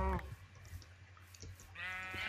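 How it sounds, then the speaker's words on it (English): Sheep bleating in Minecraft, two wavering bleats at the start and end, fairly close, over a low hum with faint movement sounds between. "Get some sheep to make some beds."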